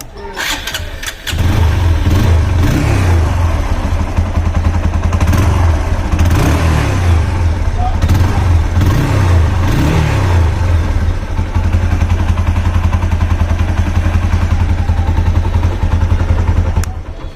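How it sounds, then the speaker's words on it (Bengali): A red second-hand TVS Apache RTR motorcycle engine starts, then runs loud and close, revving a few times before settling into a steady idle. "দেখাবো আপনাদেরকে বাইকটির সাউন্ড কন্ডিশন"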